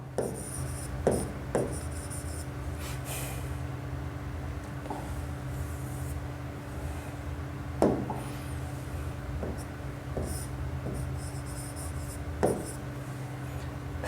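Marker or chalk strokes on a classroom board during a Hindi-medium Class 10 science lesson on electricity: a steady faint rubbing scratch, with a few sharper taps spread through the run and low room hum beneath.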